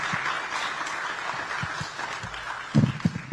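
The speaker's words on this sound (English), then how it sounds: "Can I get a round of applause for that wonderful clips?" An audience at a Cincinnati Music Festival hip-hop event gives a round of applause. The clapping is moderate and fairly far off, with some closer, louder claps near the end.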